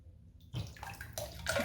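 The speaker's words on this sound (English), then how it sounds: "get some of the water out of there" Water running and splashing from about halfway through, a steady rushing pour with some gurgling, fairly close, with no voices.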